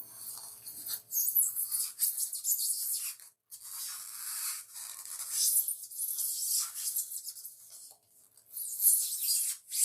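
A blade saws through a 3-inch foam craft ball to halve it, giving close, soft scratchy rasping strokes in uneven bursts with brief pauses, quiet and with no talking.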